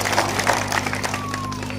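An audience at a village political rally in Haryana gives a short burst of clapping and cheering, dense and close, over a low steady hum with faint voices in the crowd.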